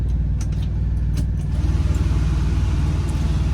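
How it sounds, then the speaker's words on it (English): A truck engine starting for the first time, with a loud close rumble settling into a steady pulsing idle, and a few light clicks and key jingles over it. "I'm about to start up the truck for the first time."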